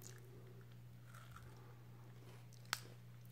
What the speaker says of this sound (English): Let's open it up and take a bite.